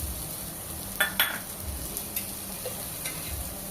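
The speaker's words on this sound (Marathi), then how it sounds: "आता मी हा कांदा जो आहे तो या गरम तव्यावर तेल टाकून भाजून घेणार आहे" Soft, steady sizzling of onion frying in oil on a hot griddle, with a few light scraping and stirring clicks, no voices.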